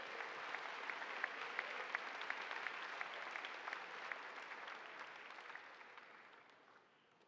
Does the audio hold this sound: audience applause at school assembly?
yes